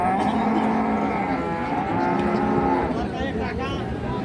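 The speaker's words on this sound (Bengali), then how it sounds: "আমরা দেখছিলাম আজকে যে গরুগুলো কিনছিলেন ভাইরা সাহেব আলী ভাই" Sahiwal cattle low at a cattle market, one long, loud, close moo with drawn-out tones, followed by softer bellowing against a busy background murmur.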